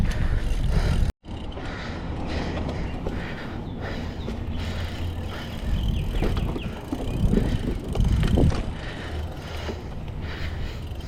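Mountain bike tires rolling over a dirt trail in the Grand Canyon, a continuous close crunching and rumbling of tread on loose ground with mechanical rattles and wind buffeting, briefly cutting out near the start.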